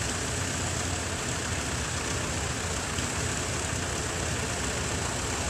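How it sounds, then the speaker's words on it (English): An old tractor used for pulling a six-bottom plow idles with a steady, low, unbroken rumble, fairly faint and heard without talking. "six bottom plow tractor right here."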